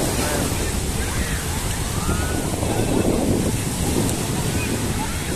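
Sea waves at a beach resort wash in as a steady broadband roar, continuous throughout and mixed with wind buffeting the microphone, with no clear talk.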